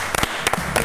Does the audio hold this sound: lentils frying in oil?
no